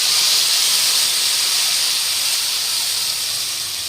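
Spice masala paste for a palak kofta gravy hits hot oil with a loud, dense hissing sizzle that is strongest at first and eases slightly as it goes on.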